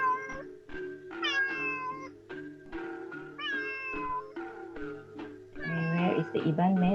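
A cat character in a virtual Iban longhouse game meows repeatedly in short rising calls over a looping, tinkling game soundtrack, with a person talking throughout.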